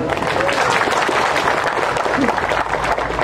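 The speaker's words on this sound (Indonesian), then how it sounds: "Ya tepuk tangan dulu." An audience at a communal fast-breaking gathering applauds in a steady, loud wash of clapping, with voices mixed in throughout.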